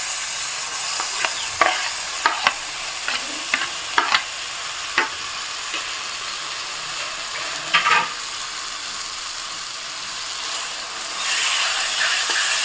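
Brinjal frying in a pan sizzles with a steady hiss while a spatula scrapes and clacks against the pan in a series of sharp stirring strokes, then the frying continues alone.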